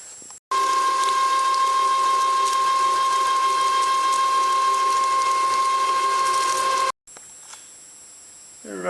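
An American Pacemaker metal lathe makes a roughing cut, a loud, steady mechanical whine with a sustained hum that runs for about six seconds, stops briefly, then resumes more quietly.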